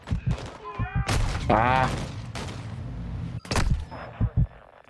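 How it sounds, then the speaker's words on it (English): Gunfire crackles in the video game Call of Duty Modern Warfare II in sharp bursts, mixed with game effects, and a voice shouts and talks over it. "I'm taking effective fire. Bullets."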